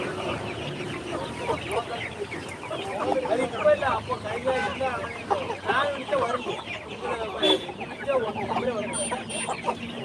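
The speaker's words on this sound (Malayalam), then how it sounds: "നിറയെ ഉണ്ട് വലിയ വലിയ പൂവൻ കോഴിയുണ്ട് ഗിൽരാജ കോഴികളുണ്ട് നാടൻ കോഴികളുണ്ട്" Roosters and hens cluck and call in a busy poultry market at Badiyadka, Kasaragod, a steady crowded din of fowl with voices of people talking throughout.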